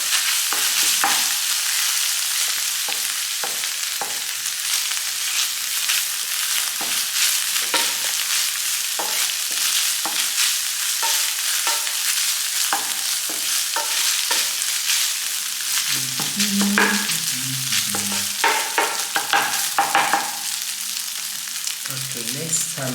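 Meat filling for taquitos sizzles and fries in a pan while being stirred and scraped, a continuous loud crackle with repeated utensil scrapes and clinks, and light knocks toward the end.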